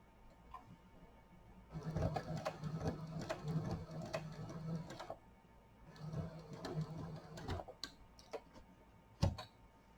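A sewing machine stitches a clear vinyl pouch in two bursts of rapid mechanical ticking and whirring, separated by a short pause, followed by a few scattered clicks, close and fairly quiet.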